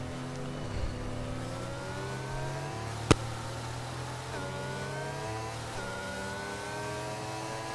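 The Aston Martin safety car's engine hums steadily in a racing video game, its tone rising and dropping through gear changes, with one sharp click midway.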